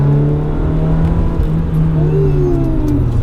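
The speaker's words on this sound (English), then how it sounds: "So this car has got a capriccio exhaust." A manual Ferrari 355 fitted with an aftermarket Capristo exhaust runs with a steady, close engine drone that swells slightly toward the end. No one speaks.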